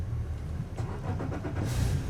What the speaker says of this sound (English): then we should be able to fire the engine up.